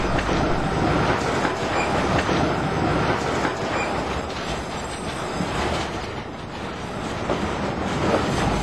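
A Milan line 15 tram rolls along its rails with a steady rumble and rhythmic clacking, wheels squealing faintly at times, close by and continuous.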